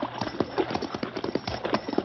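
Horse hooves clip-clop at a steady walking pace in a radio-drama Western scene, as a rider moves cautiously through a narrow pass; the hoofbeats are close and continuous, with a faint voice murmuring beneath them.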